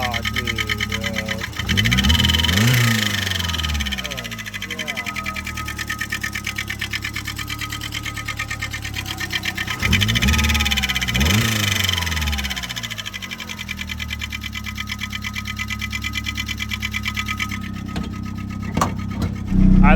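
Turbocharged high-compression 1.6L Mazda Miata engine running with a stuck lifter, a rapid mechanical ticking clatter over a steady idle drone, with two louder surges; a voice talks over it.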